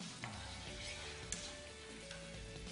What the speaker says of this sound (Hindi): और ये तड़का हमारे पास हो रहा है तैयार